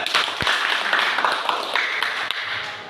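Students in a classroom clap their hands in a quick, lively burst, close and fairly loud, with scattered individual claps standing out from the group.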